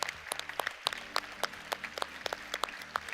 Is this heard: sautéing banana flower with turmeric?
no